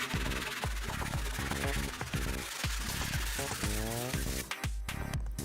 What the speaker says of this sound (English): Now it's dry and ready to be sanded.